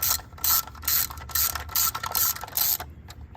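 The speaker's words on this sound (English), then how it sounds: "And I'm gonna ratchet that down." A ratchet wrench tightens a spark plug on a 2006 Dodge Dakota 4.7L 4WD Quad Cab, clicking in about six quick rhythmic bursts at close range before stopping.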